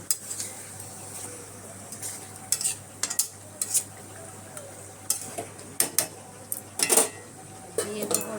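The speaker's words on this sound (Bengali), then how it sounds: "চিকেনটা দিয়ে ভালো করে মিশিয়ে নিলাম" Chicken is stirred with fried onions in a pot for a Bengali chicken and potato curry, producing repeated clinks and scrapes of a spoon against the metal. The strokes come in irregular bursts over a faint low hum, close by, and no one speaks.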